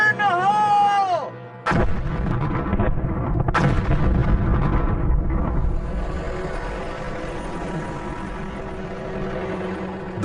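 Small explosive charges blast rock above a dinosaur fossil bed at a dig, one loud boom followed by a second and a long rumbling roll of debris, with a brief tone beforehand.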